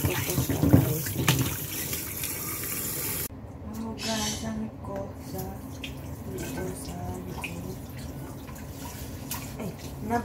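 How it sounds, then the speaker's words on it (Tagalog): Cold tap water runs and splashes while pig innards are washed at a sink, a steady stream with drips and sloshing. A person talks over it. "Tapos, huhugasan ko ulit ng malamig na tubig."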